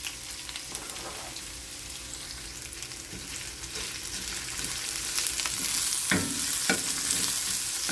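Onion and garlic sauté with ginger in a pan for squid adobo, a steady close sizzle with scraping stirs that grows a little louder toward the end.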